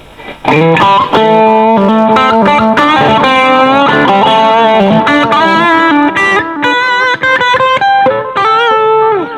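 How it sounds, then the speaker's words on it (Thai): An electric guitar plays a solo through heavy distortion, with bright sustained notes, quick runs and bends ringing loud and alone, the driven tone thick and continuous. "ผมใช้เสียงแตกเพิ่มเยอะๆหน่อยอเพื่อให้มันแตกมากหน่อย"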